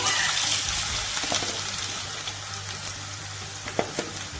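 Cauliflower frying in hot oil in a kadai, a steady close sizzle and bubbling hiss with a few sharper pops, no talking.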